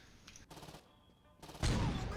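Gunfire in the video game Saints Row 2 sounds out as short bursts of shots, then heavier, louder blasts toward the end, heard through game audio.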